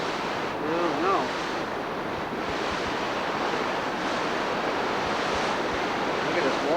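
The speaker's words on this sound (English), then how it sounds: "Look at this water. Turbulent coming out of there." Turbulent water rushing out from an opening, a steady loud broadband roar with gusty wind buffeting the microphone throughout, close and continuous with no pauses.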